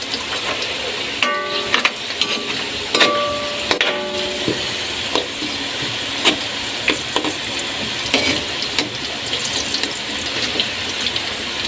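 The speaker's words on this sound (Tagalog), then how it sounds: "check natin yung pinipirito natin patatas" Potatoes fry in a pan for bistek tagalog, giving a steady, close sizzle with intermittent clinks and scrapes of stirring throughout, and no talk.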